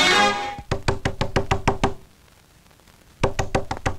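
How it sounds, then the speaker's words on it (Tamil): Someone raps sharply on a door in a Tamil film scene: a quick run of about eight loud knocks, a short pause, then another burst of about six knocks, close and clear with no voices. "ஏன் மறுபடியும் தட்டுற?"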